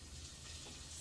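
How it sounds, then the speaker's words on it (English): Chicken sizzles in a pan while pancit is being cooked, a close, steady hiss of frying with no voices. "Hear that sizzling?"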